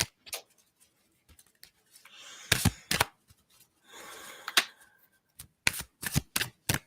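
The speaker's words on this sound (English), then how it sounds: "And I shuffled really good." A deck of cards is shuffled by hand for a card reading, with crisp riffling bursts and sharp taps in an irregular rhythm, close and fairly quiet with no talking.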